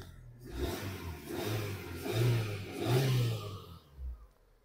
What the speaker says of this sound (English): little bit rev up